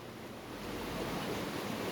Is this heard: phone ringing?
no